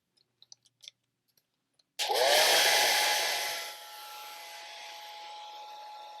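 A hair dryer drying a watercolor painting of a winter barn switches on with a loud, steady whoosh after a few soft clicks, then settles to a slightly lower, continuous blowing.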